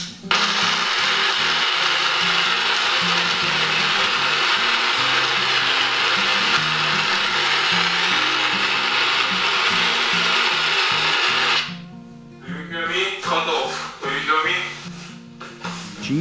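A GTG-2020 audio jammer runs with a loud, continuous, dense hiss-like masking noise for about twelve seconds before cutting off, leaving faint scattered sounds behind.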